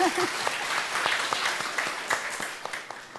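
A crowd applauds, dense clapping that carries steadily throughout and tapers slightly toward the end.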